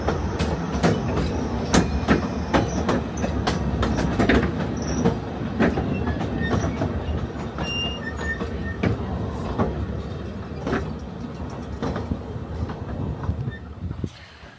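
A train runs on a narrow-gauge railway in Wales, rumbling steadily at close range for the whole stretch with rhythmic wheel clicks and faint squeals over the rails, with no talking.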